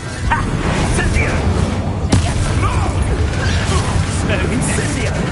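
Incendio fire spell cast during a combat fight in a Hogwarts video game, loud whooshing and crackling bursts among busy battle clatter, with voices shouting over the noise.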